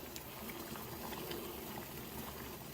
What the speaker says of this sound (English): came back, and it was boiling